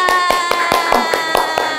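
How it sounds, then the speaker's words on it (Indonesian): A few hands clapping in quick, fairly even rhythm, around a dozen close, sharp claps over a couple of seconds, with no talk over them. "Yeay, tepuk tangan."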